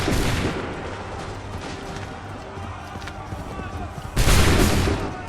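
Musket fire in Assassin's Creed III, a steady wash of gunshots through the clip ending in a loud, broad volley near the close, with voices in the background.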